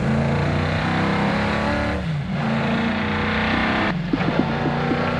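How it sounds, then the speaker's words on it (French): A Ford GT40 race car driving at full demonstration pace, its engine roaring loud and close throughout with steady high revs, a brief dip around two seconds and gear-change surges near the end. "avec Philippe Vendrome et Fred Vivier dans leur Ford GT40 pour une démonstration grandeur nature."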